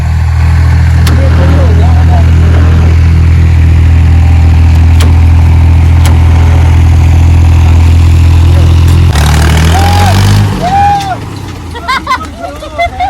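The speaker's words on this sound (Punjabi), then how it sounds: "ਲੋ ਜੀ ਟਰੈਕਟਰ ਫਿਰ ਚੱਲਣ ਦੇ ਕਾਬਲ ਹੋ ਗਿਆ" A tractor engine, just repaired, runs again at a loud, steady, throbbing idle. Near the end the note shifts and roughens, with faint voices in the background.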